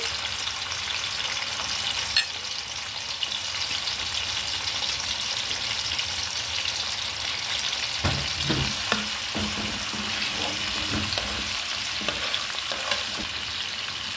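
Liver fries in a pan with garlic and pepper, giving a loud, continuous close sizzle throughout with occasional scraping stirs and small clatters toward the end.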